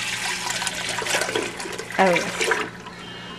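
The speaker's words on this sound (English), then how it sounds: "we are gonna pour this milk now into our large pot" Milk is poured from a container into a large pot while making homemade yogurt, giving a steady liquid rush that swells briefly near the end before tailing off, with a short exclamation from a voice.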